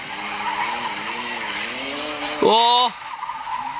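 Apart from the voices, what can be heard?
BMW F10 car drifting, tires skidding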